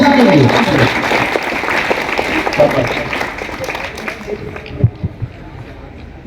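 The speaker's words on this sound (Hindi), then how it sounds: "जोरदार तालियां इसके लिए" Loud, dense clapping from a crowd of students at a school assembly fills the opening, then thins to scattered claps while a voice carries on over it.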